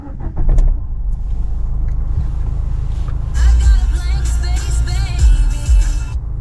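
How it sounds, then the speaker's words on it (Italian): A 2018 Nissan Micra K14 engine cranks briefly and starts, then settles into a steady close idle with a rough, low hum that swells slightly at moments. "prima di effettuare la scansione accendiamo la nostra autovettura"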